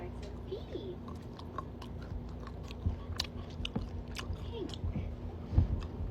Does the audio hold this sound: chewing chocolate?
yes